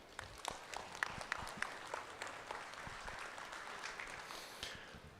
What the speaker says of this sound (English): This round of applause, please.